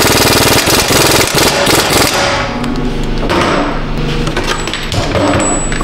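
A half-inch impact wrench works on a 2017 Chevy Colorado during a front wheel bearing job, giving a loud, close, continuous rapid hammering rattle that runs for about six seconds and eases slightly partway through.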